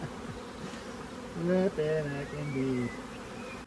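Agitated honeybees buzz at an open hive from a nucleus colony, a faint steady hum under a man's brief close speech.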